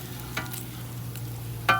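Bacon frying in a pan at a camping breakfast, a soft steady sizzle with a couple of brief scraping clicks from a utensil, close but fairly quiet, no talking.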